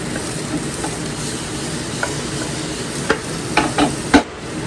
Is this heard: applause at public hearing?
no